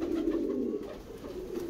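Pigeons coo in a low, steady, throaty murmur that carries on without pause at close range.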